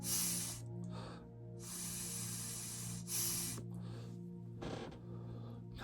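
Bursts of airy hiss from a Rogue 2 vape pen being inhaled come and go in several long draws with short gaps, close and fairly quiet against a low steady hum.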